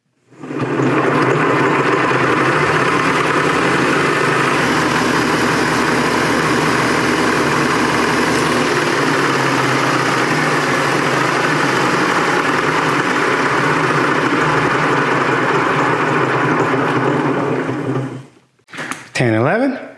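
An electric motor held at 2,500 RPM for a regenerative braking test produces a steady, loud whir that continues for most of the span and then cuts out near the end, followed by a brief clatter.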